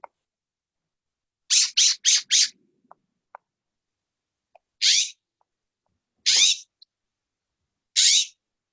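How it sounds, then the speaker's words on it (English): Birds calling outdoors, a quick run of four harsh, raspy squawks followed by three more single calls at intervals, each loud and close against near silence. "I hear a bird."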